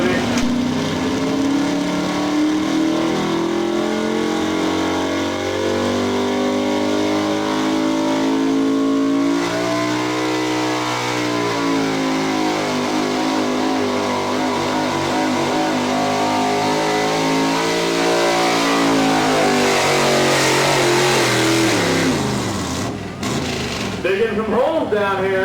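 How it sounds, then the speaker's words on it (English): A Chevy pro-street truck races down a drag strip at a 2005 Lawrence, Kansas event, its clutch smoking. The engine roars loud and continuous for about 25 seconds, its pitch climbing and falling as it revs, then drops away abruptly near the end. "A whole lot of clutch smoke coming out of that cross-country Chevy."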